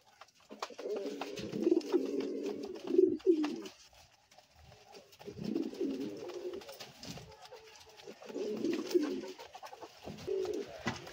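Pet pigeons, satin pairs among them, coo in low throaty rolling phrases close by in a loft during summer care, in three main bouts separated by quieter gaps.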